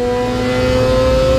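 A Suzuki Hayabusa motorcycle engine screams at sustained high revs on a dynamometer at a motorcycle event, a loud, steady, buzzing whine that holds without a break.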